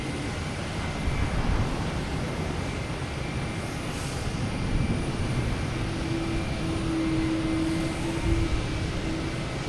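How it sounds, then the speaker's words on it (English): An Alaska Airlines jet's auxiliary power unit running at Boston Logan airport, a steady broad roaring whine with a thin high tone, constant and fairly loud, with no voices. "the Alaskan Airlines in front of us keeping its APU on, making all the racket"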